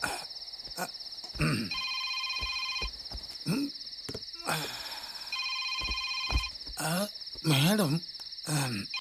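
An old-style telephone bell rings in repeated electronic bursts with steady pauses between them, close and fairly loud, while people talk and shout over and between the rings.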